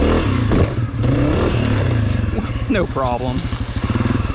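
A Honda CRF250F dirt bike revs and claws up a trial step on a trails course, its engine loud and close, rising and sputtering in bursts with clattering, while a rider talks over it.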